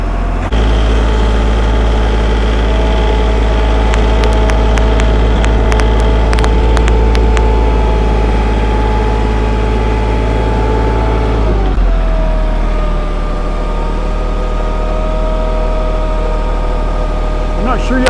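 A tractor engine idles steadily with a low, heavy drone, close by, shifting pitch slightly partway through as it works; voices speak now and then over the engine.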